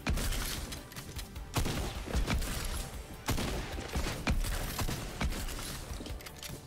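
Gunfire in the video game Fortnite, sniper and rifle shots cracking out as sharp, loud bursts at irregular intervals, several strong reports spaced a second or so apart over a steady layer of game noise.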